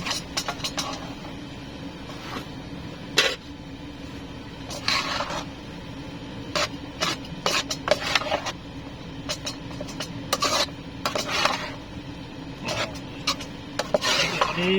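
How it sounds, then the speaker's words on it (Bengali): Maggi noodles being stirred in a pan make repeated sharp metallic scrapes and clinks of a utensil against the pan. The strokes come in irregular bursts over a low steady hum. "নুডলসগুলো দিয়ে দিলাম, এখন ভালো করে নাড়িয়ে নেব"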